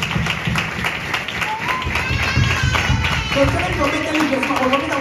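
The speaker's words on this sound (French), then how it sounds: "acclamez pour Jésus" A church congregation claps and cheers for Jesus in a steady, lively burst of applause, with voices calling out over the clapping throughout.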